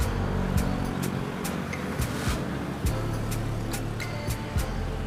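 A car cruises along the Cijago 3 toll road on the JORR 2 in Indonesia, heard as a steady low road rumble from inside the cabin, with sharp intermittent ticks and clicks scattered throughout.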